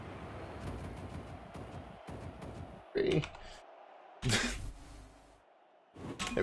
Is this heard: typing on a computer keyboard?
yes